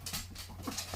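A puppy at play pants in quick, breathy bursts with faint whimpers, close and fairly quiet over a low steady hum.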